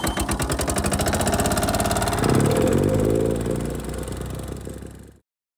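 A Wacker Neuson plate compactor runs close by with a loud, even engine drone and a fast rhythmic thumping. The pitch shifts slightly midway, and the machine then cuts off abruptly near the end.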